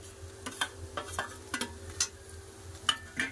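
Onion and green chilli are stirred into a pumpkin and potato curry, with a utensil scraping the pan in irregular strokes over a soft sizzle, close and fairly quiet.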